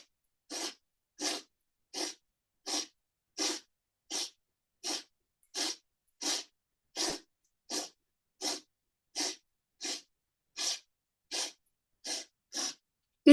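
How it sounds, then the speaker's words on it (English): Fast yoga breathing: sharp, even exhalations at a steady clip, about one every 0.7 seconds, close and clear with no other sound. "breathing in and out."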